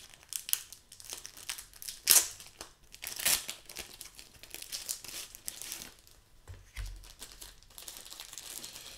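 Plastic card holder packaging crinkles and crumples as it is opened by hand, with bursts of crackling and a couple of sharp tearing peaks, close and fairly quiet, no speech.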